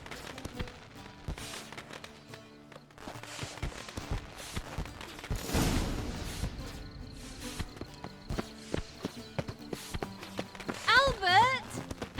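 Horse hooves clip-clop in The Witcher 3, a steady series of close, sharp taps mixed with other game sounds and a brief swell of noise midway, with a short tonal effect near the end.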